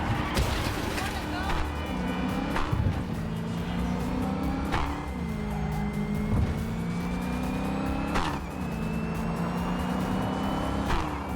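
Hoon car driven in the video game Cyberpunk 2077 on PC, engine droning steadily with rising and falling revs, brief tire squeals and repeated sharp impacts, heard under ongoing talk.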